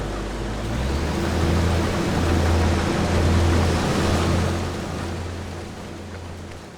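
Combine harvester working a field in Farming Simulator 25, a steady low engine drone with a broad rushing wash of crop and machinery noise, swelling slightly midway and holding constant throughout, no talk over it.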